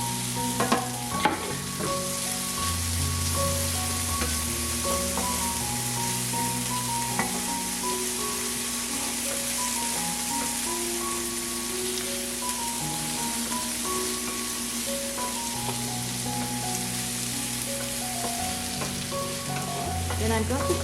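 Corn and peppers frying in a tablespoon of oil in a pan make a steady, close sizzle that runs throughout beneath continuous background music.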